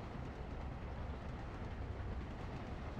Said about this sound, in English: The train is here, so should the chopper be